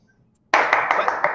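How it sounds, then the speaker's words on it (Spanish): Audience applause breaks out suddenly after near silence, a dense, loud wash of many hands clapping with small rhythmic swells, continuing steadily to the end. "vamos a darle un fuerte aplauso"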